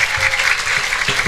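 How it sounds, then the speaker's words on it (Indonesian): Loud, lively applause from the audience at a Barongan folk performance, a brief dense burst of clapping with no talk over it. "Tepuk tangan yang meriah terlebih dahulu."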